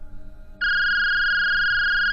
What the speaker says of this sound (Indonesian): Lalu HP milik Widya berbunyi.